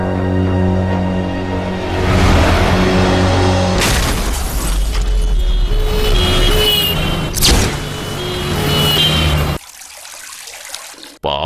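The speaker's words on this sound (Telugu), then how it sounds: "వేగంగా వెళ్లిన అమ్మాయి కారు, గుద్దిన సౌండ్, తిరిగి వెళ్లిన అంబులెన్స్" A car races past and smashes with a sharp crash and shattering debris, followed by further impacts, then the scene drops to near silence before a brief final burst.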